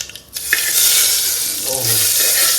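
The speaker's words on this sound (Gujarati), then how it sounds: "હવે આને હું મિક્સ કરી દઉં છું" Turmeric being stirred into food frying in a pan on a lowered gas flame, a steady close sizzle with a scrape of stirring near the start.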